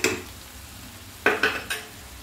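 Duck meat fries with cumin and coriander powder in a pan. A soft background hiss is broken near the end by three quick, close scraping clinks as the meat is stirred.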